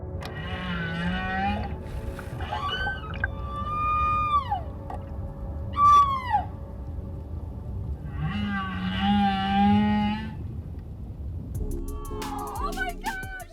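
Humpback whale song: long, eerie tonal moans, rising and falling whoops and high sweeping cries, loud and clear across the whole stretch.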